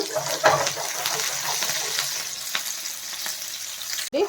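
Okra (lady finger) frying in a pan with curry leaves, a steady close crackling sizzle with a few louder pops and stirring scrapes, one sharp clatter near the end; no talking.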